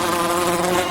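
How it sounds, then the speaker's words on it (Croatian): A bee buzzes close by in a steady, unbroken drone that holds at an even loudness for the whole second, with no voices. "Šta se to čuje? Čela, marš odavde."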